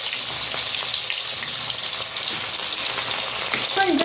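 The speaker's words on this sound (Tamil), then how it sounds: "கொஞ்சம் கருவேப்பிலை போட்டு நல்லா வதக்கி எடுத்துக்கலாம்." Onion, garlic and curry leaves fry in a pan for Karadimadai kara kuzhambu, giving a dense, continuous sizzling hiss close by, with light stirring clinks toward the end.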